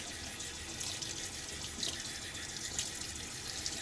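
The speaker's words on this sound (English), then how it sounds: "Rinsing off the side of the tub here." Running water from a tap rinses the side of a shaving soap tub, a soft steady splashing hiss heard close and fairly quiet without pause.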